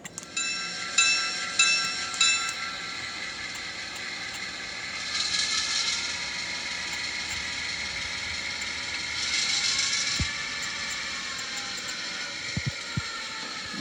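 Scale Sound Systems model train sound unit giving off continuous synthesized train sounds, with a steady engine drone, a few bell-like tonal blips early on, swelling hiss bursts resembling steam or air releases, and some sharp clicks near the end.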